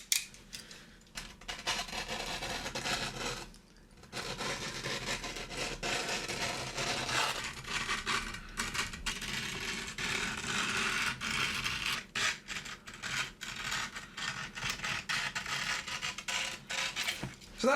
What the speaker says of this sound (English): So if I get my razor blade, we should be able to cut through it.